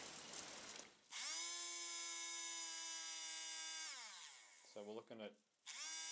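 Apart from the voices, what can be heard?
RC car motor running during amp test without neodymium magnets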